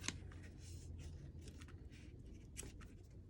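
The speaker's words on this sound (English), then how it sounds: "So I'm going to kind of fold this against the table" A sheet of paper for a book cover, still soft with gesso, being folded and creased against a tabletop, giving quiet close crinkles, rubs and brief scratchy swipes in an otherwise hushed room.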